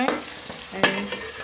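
Ajwain being mixed into a ground biryani masala blend, two or three sharp scraping stirs over a light hiss, close and alone with no speech.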